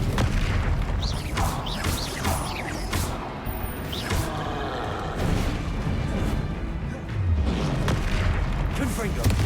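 Fire spell effects from Hogwarts Legacy, the Incendio spell cast repeatedly in dense, continuous game audio, with booming whooshes and bursts layered under mechanical effects and a speaking voice.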